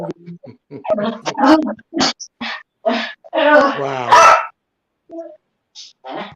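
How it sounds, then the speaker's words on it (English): A dog barks and yips in short bursts close by, mixed in with people talking loudly over it. "That's my dog."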